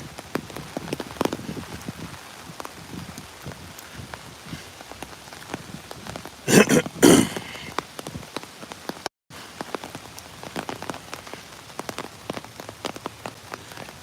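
Rain falls steadily outdoors, a dense patter of drops on surfaces with sharper, louder splashes bunched midway, continuing alone without any voices.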